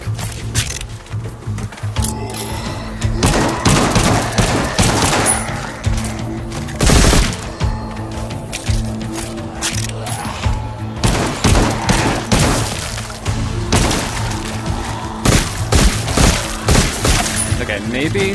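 Rapid bursts of revolver gunfire in the Arizona Sunshine Remake VR game, repeated sharp shots in uneven clusters across the span, loud and close, with someone talking at times between the shots.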